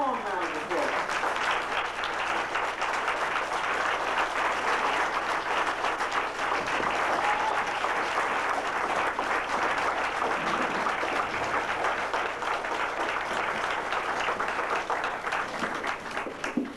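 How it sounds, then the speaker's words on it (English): Warm, sustained applause from a lecture audience welcoming a speaker, a steady wash of clapping that holds evenly for many seconds with faint voices beneath. "give him a warm round of applause"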